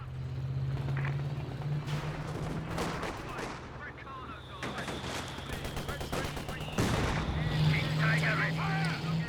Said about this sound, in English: Dropping the 105 artillery right on the trenches.